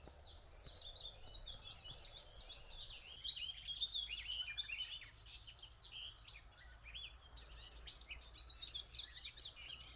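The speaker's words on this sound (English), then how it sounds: "It's so lovely to be immersed in all this bird song this morning." Morning birdsong in the Peak District countryside, with several birds trilling and chirping in overlapping high, bright phrases over a soft low background hum, moderately distant and continuous with no speech.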